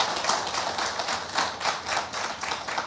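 Audience applause welcoming Himachal Pradesh Chief Minister Jai Ram Thakur at an India TV conclave, a dense, steady clapping from a crowd that continues loud and unbroken for a few seconds.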